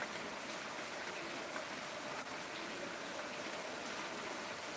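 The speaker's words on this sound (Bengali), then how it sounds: "অনবরত বৃষ্টি চলছে" Steady, even hiss of continuous rain, unbroken throughout with no voices.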